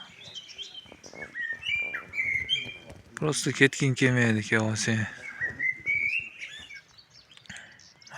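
Birds sing at Sary-Chelek lake with bright chirps and whistled calls scattered through the scene, while people talk nearby; a loud stretch of speech partly covers the birdsong midway.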